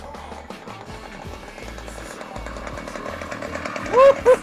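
Motorized bicycle engine on a test ride in a parking lot: a steady, buzzy small-engine drone, moderately close, with a brief louder rev near the end.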